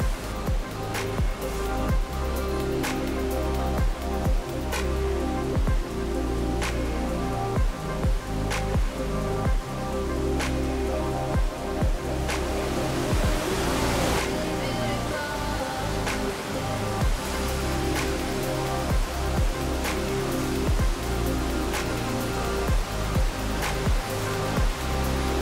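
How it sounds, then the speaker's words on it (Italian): Saion waterfall at Lago Antrona, a dense continuous roar of cascading water heard up close, loud and steady for the whole stretch with no talking. "Ed ecco a voi la meravigliosa cascata del Saion."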